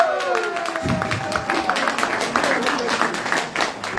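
An audience claps for a former governor at a meet-and-greet in Birmingham, with scattered hand claps rising under a voice speaking over them.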